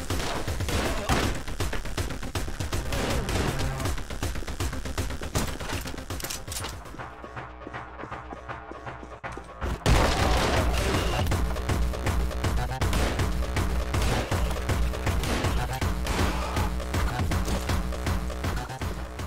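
Rapid, dense gunfire from the video game Anger Foot, with sustained volleys of shots, a brief quieter lull midway, then renewed heavy firing with thuds mixed in.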